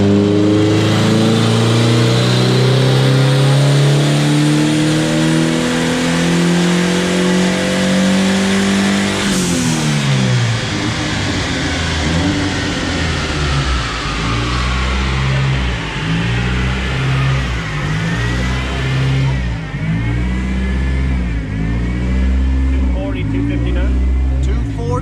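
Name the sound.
1984 Ford Capri engine revving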